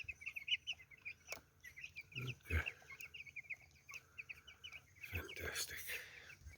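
Chickens cluck and chirp repeatedly outdoors on a damp morning, with scattered short calls, rustling and thuds close by, while someone speaks briefly.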